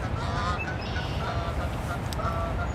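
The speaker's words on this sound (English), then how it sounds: "couple of Canadian geese there" Canada geese honk repeatedly along the Niagara River at sunrise, their nasal calls coming at a moderate distance in loose bursts over a steady background murmur, with no talking.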